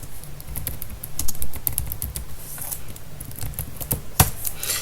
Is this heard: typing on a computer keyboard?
yes